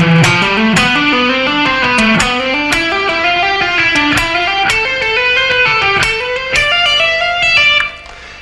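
An overdriven electric guitar works through a rock pattern, notes climbing string to string with hammer-ons, a continuous legato run that stays loud and up front for several seconds with no voices.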